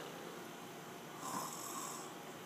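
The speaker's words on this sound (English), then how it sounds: "That is some strange snoring." Snoring in a Minecraft game, a raspy drawn-out breath that swells louder in the middle, heard alone against a steady background hiss.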